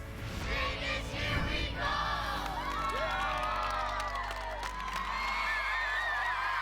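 Kids and families cheering on an American Ninja Warrior contestant: a dense, energetic crowd of high shouts and whoops that rises and falls continuously over a steady low rumble, with no clear talk.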